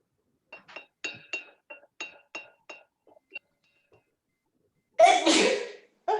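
A single sharp sneeze bursts out close and loud after a run of faint clinking glass or dish taps, then a voice begins right after.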